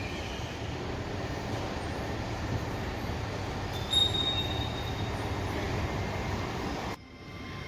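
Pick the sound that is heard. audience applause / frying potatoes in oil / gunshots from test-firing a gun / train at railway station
train at railway station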